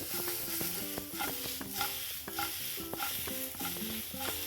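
Aloo katli potato slices with finely chopped coriander are tossed and stirred in a frying pan, a run of soft scrapes and knocks at a loose rhythm over a faint sizzle, close by and without speech.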